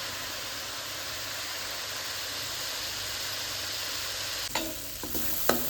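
Sambal chili sauce sizzles and fries steadily in a pan, a continuous hissing crackle, with a few brief scraping stirs near the end.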